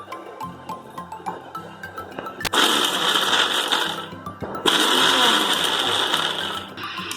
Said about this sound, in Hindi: इन मसालों को हम ये ग्राइंडर के ड्राई मिक्सिंग जार में डाल देंगे और बहुत ही कोर्स ग्राइंड करेंगे इनको।